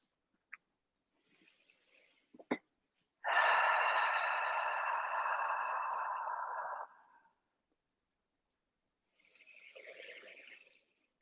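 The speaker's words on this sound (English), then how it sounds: "I'm just sitting here breathing deeply, really breathing deeply from my heart out" Someone breathes deeply: a couple of small sniffs, then one long, loud, airy exhale of several seconds, followed by a softer breath after a pause, with no talking.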